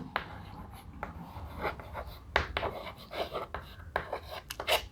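A pen or pencil writes by hand on paper while working a class 6 math problem, giving close, soft scratching strokes in short irregular bursts with small pauses.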